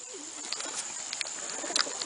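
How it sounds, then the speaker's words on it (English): Pigeons waiting outside their loft give faint, low cooing amid a steady high background hiss, a few soft calls and light rustles scattered across the brief moment. "These pigeons are wanting to go in."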